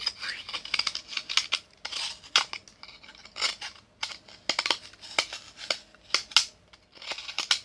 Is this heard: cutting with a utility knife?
yes